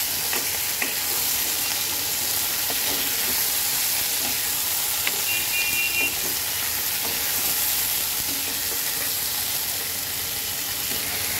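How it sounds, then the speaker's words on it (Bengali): Potato pieces and crab sizzle in hot oil in a pan, a steady, dense frying hiss with scattered crackles and the occasional stir, close up and fairly loud with no voices. "এবার আমি আলু আর দাঁড়াটাকে আগে সুন্দর করে ভেজে নেব।"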